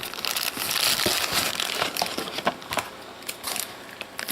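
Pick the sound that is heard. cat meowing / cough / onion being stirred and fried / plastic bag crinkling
plastic bag crinkling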